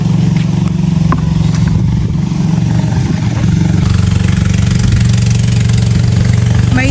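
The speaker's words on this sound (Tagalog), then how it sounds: "May dumaan pong bangkong di motor." A motorized outrigger boat passes on a fish pond, its engine a loud, close, steady drone with a rough, throbbing low hum throughout.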